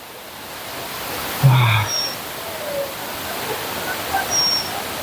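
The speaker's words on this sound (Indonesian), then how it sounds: "Sekarang saya berada tepat di atas sungai." Steady broadband rush of a river and the Watu Ondo waterfall in Cangar, Batu, East Java, heard from directly above the stream, with a brief exclamation and faint bird chirps over the constant water.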